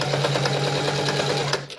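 A sewing machine top-stitches a seam on a children's soft shell coat, its needle running in a steady, fast, even whir at close range with no talk.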